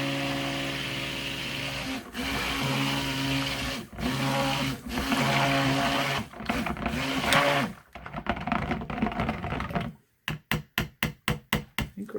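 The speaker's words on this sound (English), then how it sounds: "blend with my stick blender just to get it fully incorporated" A stick blender whirs in bursts while mixing buttermilk soap batter, several sustained motor runs broken by short pauses, ending in a quick series of rapid on-off pulses, close and moderately loud.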